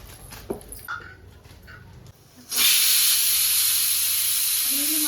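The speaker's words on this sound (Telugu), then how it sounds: "నీళ్ళు మసులుతున్నాయి, నీళ్ళు వేసుకోవాలి." Pot of water coming to a boil, a quiet stretch of faint kitchen noises then a sudden loud, steady hiss and bubbling roar that holds to the end.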